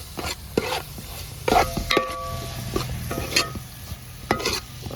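Chicken parts sizzle and fry in a pan as a utensil stirs them, loud scraping clatters arriving in irregular bursts over a steady low hiss.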